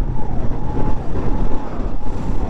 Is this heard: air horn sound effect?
no